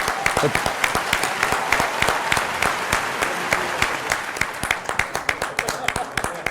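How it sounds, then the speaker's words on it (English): An audience at a Rotary event applauds their mentor, a flight lieutenant, with distinct, rhythmic claps that become more spaced toward the end. "with a big round of applause, friends"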